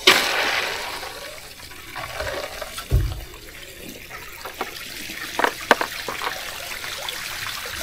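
Water flows and splashes through a homemade DIY pond filter filled with bio-balls as it is switched back on, a burst of gushing followed by uneven trickling and sloshing with a few sharp splashes.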